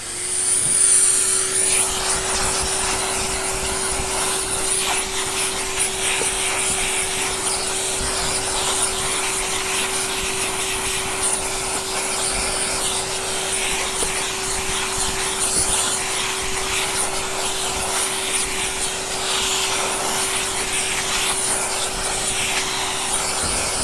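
A Henry vacuum cleaner runs steadily and loudly throughout, a continuous motor drone with a strong steady hum, used to clean dust from the underside of a Hoover 5134D Australian floor polisher; no one speaks.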